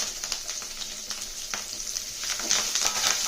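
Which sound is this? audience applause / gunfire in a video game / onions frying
onions frying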